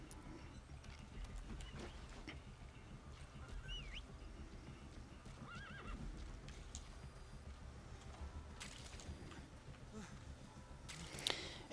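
D-Horse from Metal Gear Solid V clip-clops at a steady pace amid quiet game ambience, with faint bird calls and a brief louder burst at the end.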